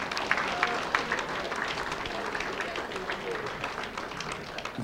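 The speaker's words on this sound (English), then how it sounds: "give yourself a big round of applause" A room full of people applauds steadily, dense clapping with a few louder claps standing out near the start.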